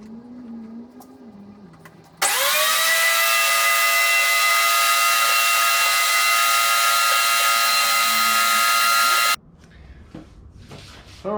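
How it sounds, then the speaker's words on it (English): Thickness planer running a board of scrap wood through its cutter head, a loud, steady high-pitched whine that starts abruptly, holds for about seven seconds, then cuts off, with quieter workshop sounds before and after. "what I'm going to do now is just run this through the planer"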